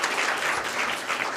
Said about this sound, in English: can we give a round of applause to all the staff that came out tonight to help out with this?